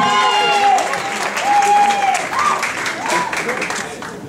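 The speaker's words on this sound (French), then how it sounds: "L'avant-dernière candidate numéro 10, sous vos applaudissements." Audience applause at the Miss Saint-Denis 2014 beauty pageant for candidate number 10, a steady crowd clapping throughout with whistle-like cheers and some voices mixed in.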